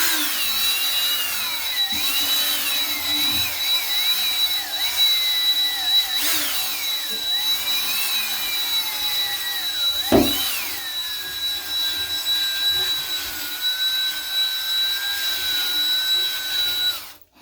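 An electric power brush with a rounded head scrubbing corners, a continuous whirring motor with a steady high whine and shifting pitch as pressure changes, one sharp knock partway through.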